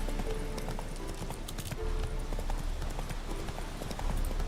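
The horse Roach from The Witcher 3 walks along a woodland path, hooves clip-clopping in a steady rhythm across the whole stretch, with faint background game sounds.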